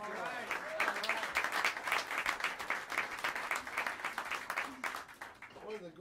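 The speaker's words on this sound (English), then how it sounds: "Spike Wilner, round of applause." Audience applause in a small New York jazz club, Smalls, a steady run of hand claps lasting several seconds, moderately distant, with a voice talking over it toward the end.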